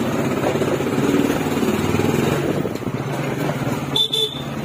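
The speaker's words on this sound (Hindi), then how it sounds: "हम जा रहे हैं बाइक से गंगा घाट के किनारे" Traffic on a road on the way to a Ganga ghat during Chhath Puja, heard from a motorcycle: steady engine rumble and road noise throughout, with a short car horn toot near the end.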